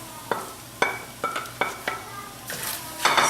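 Spatula scrapes and stirs mushrooms and tofu scramble in a frying pan, a series of sharp clacks against the pan at irregular intervals, close and fairly loud, with a light sizzle underneath and a brisker scraping flurry at the end.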